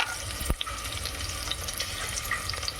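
Spices and green chillies sizzle in a hot pan, a steady close crackling hiss with a sharp knock near the start, and no one speaks.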